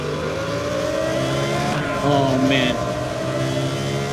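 A race car engine revs loudly and steadily in a tunnel in the video game Need for Speed Most Wanted 2012, with a resonant, echoing tone, while someone briefly speaks over it.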